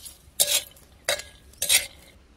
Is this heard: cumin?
yes